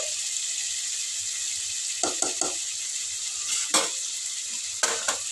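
Mutton curry simmering on low flame in a pan, a steady close hiss of sizzling broken by a few sharp clicks and knocks of a utensil against the pan.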